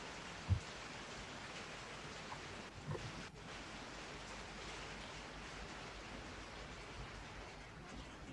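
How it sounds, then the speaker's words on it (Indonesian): Steady rain falls outdoors, a continuous broadband hiss with a couple of faint soft knocks, no talk heard. "Karena di sini hujan."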